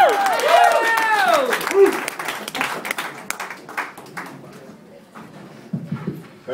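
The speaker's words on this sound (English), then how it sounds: "Y'all start clapping hands right now." Clapping from a comedy club audience welcoming a comedian to the stage, a brief burst of applause at the start mixed with voices and a tonal shout, quickly fading into scattered claps and room noise.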